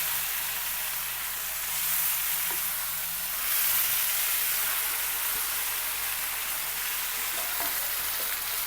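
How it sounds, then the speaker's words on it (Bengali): Yardlong beans fry in oil in a small wok, giving a steady, fairly loud hissing sizzle that swells slightly at moments and runs without pause, with no voices over it. "এই যে বরবটি ভাজি ছোট্ট কড়াইতে দিয়ে দিচ্ছি এখন তেলে একবারে তেলে দিচ্ছি"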